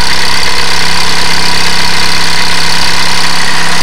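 A small-scale live steam engine runs steadily, its cylinder driving a flywheel, pinion gear and large spur gear, giving a continuous close hum with a fine mechanical buzz and no voices.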